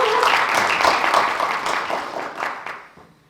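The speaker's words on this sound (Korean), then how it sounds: "박수 부탁드립니다." Audience applause at a youth rally on electoral reform in the capital region, a dense burst of many hands clapping that fills the space and then fades out toward the end.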